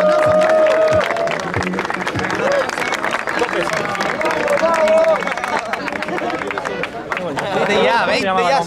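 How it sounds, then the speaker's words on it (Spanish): Crowd applause and cheering at a dance battle final event, loud continuous clapping with babble and shouts throughout, voices rising over it toward the end. "aplauso, aplauso, aplauso, aplauso, aplauso"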